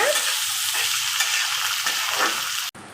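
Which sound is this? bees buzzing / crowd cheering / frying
frying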